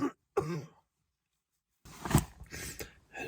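A person outdoors coughs and clears their throat, in two short close bursts separated by a second of near silence.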